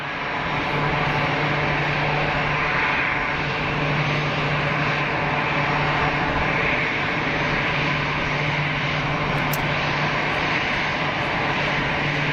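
An easyJet Airbus A320 lands at Geneva Airport, crossing the runway threshold with a loud, sustained engine roar and a faint steady hum beneath, unbroken by any speech.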